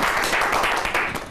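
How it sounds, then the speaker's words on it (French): A man clapping his hands in applause, a steady dense patter of claps throughout, fairly close and alone without talk. "lui qui est en train d'applaudir"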